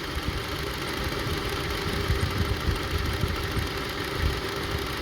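Honda CR-V engine idling roughly on only three cylinders, a steady uneven low chugging with irregular knocks and shaking vibration, close and continuous with no talking.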